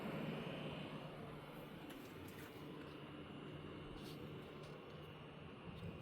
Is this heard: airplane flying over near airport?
yes